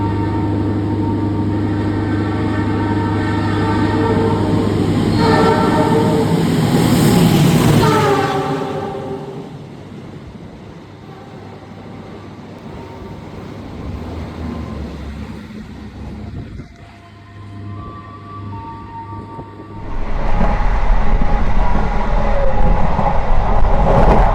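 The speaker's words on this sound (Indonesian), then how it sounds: "Dan ini kita kereta api Majapahit disusul sama Turangga coy." The Majapahit economy passenger train is overtaken by the Turangga train. Loud, steady rail rumble and rolling noise fill the clip, a passing roar swells midway, then the noise drops and returns heavily.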